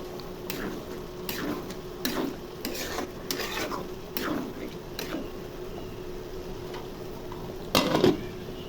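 Repeated scraping strokes of a spoon stirring chicken curry in a pot at a steady rhythm, with a faint background hum and a louder clatter near the end.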